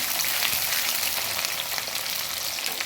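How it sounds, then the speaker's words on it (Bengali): Onion, garlic and green chilies sizzle in oil in a kadai for a mutton curry, a continuous even hiss-and-crackle heard up close without voices or breaks. "সব কিছুই ভালোভাবে ভেজে নেব"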